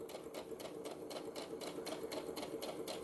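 A sewing machine back-stitches on a tote bag seam, its needle clattering in a fast, even rhythm of quick repeated strokes, faint but close, with no talking.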